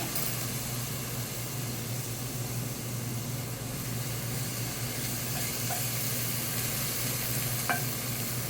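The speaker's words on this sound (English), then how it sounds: "I'm just giving it a little bit of a stir so that it doesn't burn" Garlic, ginger and onion sizzle in a pan with a constant, even hiss and a soft low hum, while light stirring taps turn up near the end.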